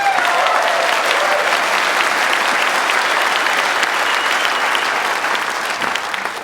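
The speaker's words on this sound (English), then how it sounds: "give our friend Colin a big round of applause." Loud, sustained applause from a large audience at a cowboy poetry gathering, steady dense clapping with a few voices and whistles mixed in throughout, tapering slightly at the end.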